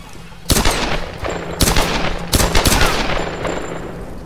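Video game Tomb Raider gunfire: three loud, sharp bursts of rapid shots spaced about a second apart, each trailing into a rattling echo, with no voices over them.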